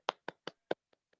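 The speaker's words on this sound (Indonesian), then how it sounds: "Tepuk tangan dulu untuk Dita." A small classroom group claps for a student, Dita. Four sharp, close claps come in quick succession, followed by two fainter ones as the applause dies away.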